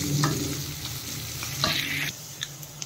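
Onions frying over a high flame for chutney, a steady loud sizzle with scraping stirs and spatula clanks, no voices.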